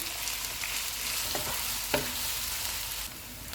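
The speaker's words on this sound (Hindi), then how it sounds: "प्याज डालेंगे, इनको गोल्डन फ्राई करेंगे।" Onions frying in hot oil with whole spices for chicken biryani give a steady, close sizzle with a few stirring scrapes, and no voices.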